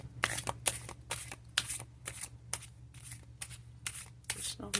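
Oracle cards shuffled by hand in a quiet room: a steady run of about a dozen crisp riffling bursts, close and clear, with a faint low hum underneath.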